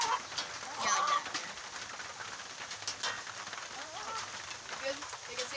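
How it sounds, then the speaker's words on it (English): Hard, steady rain pours down outdoors around a chicken coop at bedtime, a dense constant hiss filling the whole clip, with faint bird chirps and clucks poking through. "it is raining so stinking hard right now. It's a really hard rain today."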